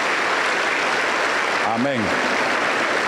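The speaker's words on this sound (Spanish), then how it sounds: "Aplauso para el Señor Jesús" Steady applause from a Pentecostal church congregation in Junín, Peru, fills the room at a constant level while a voice calls out briefly in the middle.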